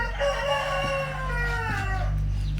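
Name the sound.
chickens (yellow-legged hens) in a pen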